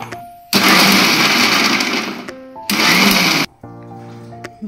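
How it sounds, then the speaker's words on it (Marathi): A mixer grinder coarsely grinds green chillies, ginger, garlic and coriander in two loud whirring bursts with short pauses between, each cutting off abruptly. "मिरच्या, अद्रक, लसूण आणि थोडीशी कोथिंबीर जाडसर मिक्सरमधून काढून घेऊ"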